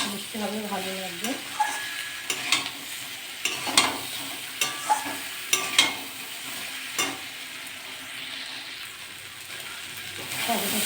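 Greens stems fry in a pan while being stirred, giving a soft continuous sizzle broken by repeated scraping spatula strokes against the metal. A voice speaks briefly near the start.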